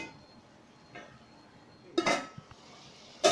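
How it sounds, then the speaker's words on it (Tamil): A lid set on a pot of chicken biryani, heard as a quiet stretch broken by a loud metallic clank and rattle, a couple of small taps, then a final clank at the end. "மூடி வச்சுக்கோங்க."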